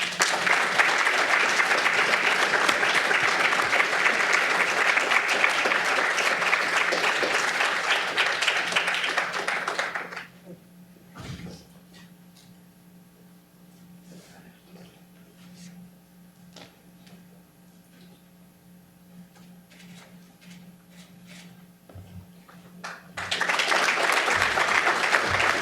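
Audience applause at a 2013 graduate awards ceremony, steady dense clapping for about ten seconds, then a quieter lull with scattered ticks, before a second loud burst of clapping returns at the end.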